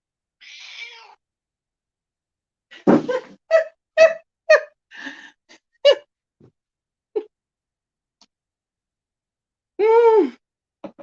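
A pet cat meowing in a quiet room, a series of short close meows and chirps spaced irregularly over several seconds, with a longer drawn-out meow near the end.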